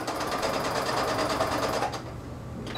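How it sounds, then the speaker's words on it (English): A sewing machine runs a steady straight stitch down pieces of a tulle skirt, its fast even motor whir and needle chatter close and loud throughout, then briefly easing near the end. "just go ahead and do a straight stitch down"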